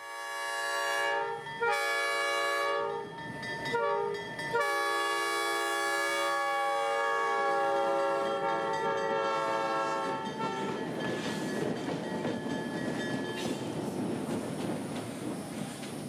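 Locomotive 8330 at the Florida Railroad Museum sounds a loud sustained horn in several blasts, then rumbles and clatters along the track cruising south toward Parrish.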